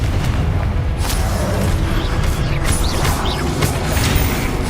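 Confringo fire spell bursting in the game Hogwarts Legacy, a dense, loud booming roar with crackling blasts layered over rumbling low end, continuous for a few seconds.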